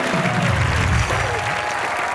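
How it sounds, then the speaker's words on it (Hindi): Studio audience applause at a televised Hindi comedy show, a dense burst of clapping filling the room for about two seconds with a slight dip midway, loud and close with no talk over it. "टोको ताली।"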